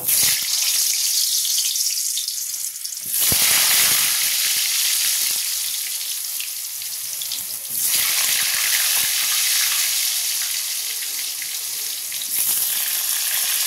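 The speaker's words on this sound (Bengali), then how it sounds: "আর এই পেঁয়াজ ভাজার তেলেই আলুগুলো ভেজে নেব" Potatoes frying in oil left over from frying onions for chicken biryani, a steady loud sizzle that swells and dips a few times, running continuously with no talk.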